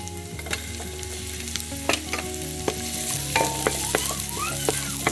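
Half a large sliced onion frying in a hot pan for chicken legs cooked with Sprite, with loud close sizzling and sharp utensil clicks that swell as the onion settles in.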